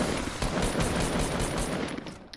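Rapid automatic gunfire in a Fortnite battle royale match, dense bursts of shots rattling continuously for a couple of seconds, loud and close.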